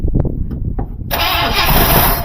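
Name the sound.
cranking a 1974 Buick Riviera 455 engine to start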